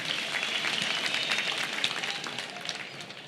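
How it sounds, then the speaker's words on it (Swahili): A crowd at Madaraka Day celebrations in Kinoru Stadium, Meru County, applauds in a steady, dense wash of clapping that carries on throughout without pause, with no clear voice above it. "Tuwapigie makofi jameni."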